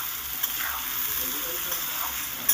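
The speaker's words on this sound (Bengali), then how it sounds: "হলুদ আর লবণটাকে দিয়ে সুন্দর করে নেড়ে চেড়ে আলুটাকে লাল করে ভাজতে হবে" Potatoes frying with salt and turmeric in a pan, a dense, even hiss of hot oil that carries on throughout, with an occasional light tap of stirring.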